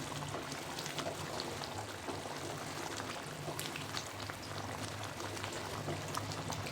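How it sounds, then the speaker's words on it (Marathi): A pot of curry with drumsticks at a full boil, giving a steady bubbling, gurgling hiss that stays soft and even throughout, with no voices. "तर आता छान उकळी आलेली"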